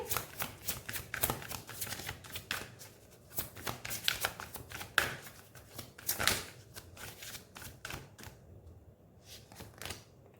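Tarot cards are shuffled and drawn by hand, a rapid run of crisp riffling flicks and soft slaps at close range, thinning out near the end.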